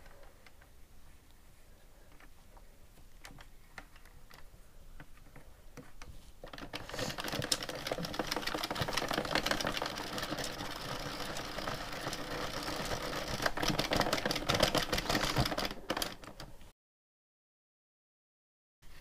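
An Addi knitting machine is cranked through rows of a sock, a dense fast rattling clatter of needles that starts faint, grows steadily louder and then stops abruptly.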